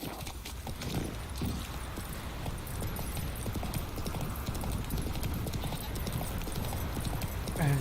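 Roach the horse trotting in The Witcher 3, hooves clip-clopping in a quick, even rhythm over a steady background, close and continuous, with a faint snort at the end.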